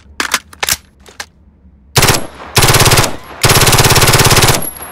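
Bursts of automatic fire from an M4A1 rifle in 9mm: a few short sharp shots, then three loud sustained strings of rapid fire, close and dominant with no talking.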